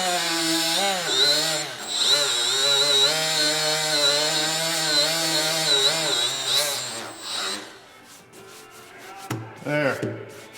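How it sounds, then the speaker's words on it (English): A power grinder smooths a small rib on a metal part of a Smokey and the Bandit tribute truck, whining with a wavering pitch for about seven seconds before spinning down, followed by scattered rattles and knocks. "I might even try and grind that smooth."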